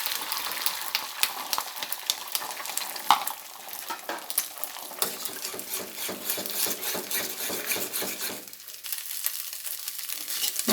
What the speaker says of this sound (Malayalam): അതിനകത്തോട്ട് മുട്ട ഞാൻ ഒഴിക്കുകയാണ്